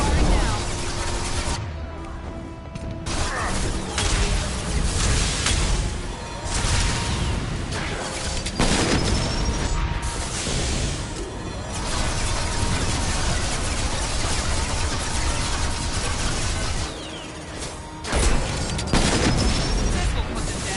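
Gunfire and explosions in Mass Effect 2: sustained, loud volleys of shots and booming blasts fill the scene nearly without pause, briefly dropping out twice, while voices speak over the combat.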